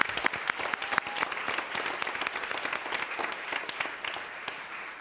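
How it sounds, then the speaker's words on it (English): An audience at a school board meeting applauds the parents, with steady, close clapping from many hands that runs continuously and fairly loudly. "Let us applaud you."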